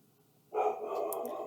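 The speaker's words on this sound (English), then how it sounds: "My dog's barking." A dog barks at home, a single abrupt outburst that starts after a quiet moment and carries on as a sustained, slightly distant bark.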